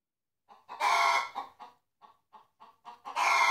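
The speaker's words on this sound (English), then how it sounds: "My chickens stay in the garage today." Chickens kept inside a garage on a bitterly cold day cluck and squawk in short, clear bursts. The sound is close and fairly quiet, with brief silences between calls and no one talking.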